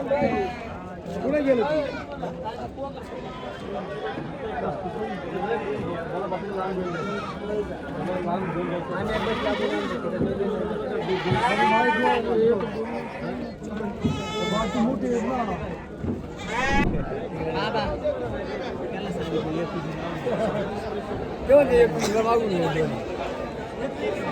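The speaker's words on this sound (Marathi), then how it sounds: "इकडनं सुद्धा तुम्ही मेंढ्या पाहू शकाल, एकदम क्वालिटीमध्ये आणि मोठ्या मापाच्या मेंढ्या आलेल्या आहेत" Sheep bleat repeatedly at a busy goat and sheep market, several calls rising over constant crowd chatter and someone talking nearby.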